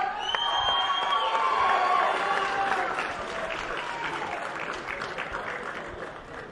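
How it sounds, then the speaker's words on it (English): Crowd at a boxing weigh-in reacting to the fighters, loud cheering, whooping and clapping that peaks early and then settles into a continuous murmuring roar. "Well, Johnny, the crowd giving Claressa some back and forth there"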